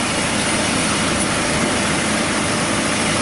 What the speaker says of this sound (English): Compressor's starting to stay engaged.